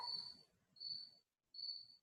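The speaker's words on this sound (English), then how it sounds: "Oh, these darn crickets." Crickets chirping indoors during an online math meeting, three high shrill trills in steady succession, quiet and close, with no talk over them.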